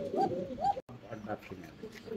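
Fancy pigeons at a breeding farm cooing in soft, low repeated calls, close by, with a short gap partway through and no talk over them.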